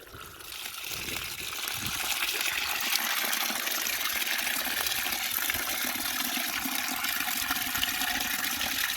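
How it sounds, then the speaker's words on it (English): Water gushes steadily into a container being filled to soak animal feed, a continuous loud rushing pour that starts softly and then holds even. "So I'm going to fill this guy with water."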